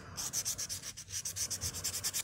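Nail file rubbing back and forth across fingernails during a basic manicure, a steady run of rapid scratchy strokes, close and crisp, with no talk.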